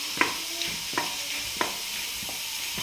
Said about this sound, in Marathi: यात मी आता तेल टाकून घेते आणि याला पूर्ण तेल लावून असं तळून घेते